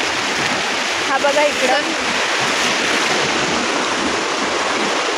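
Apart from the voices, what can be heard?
river stream water flowing over rocks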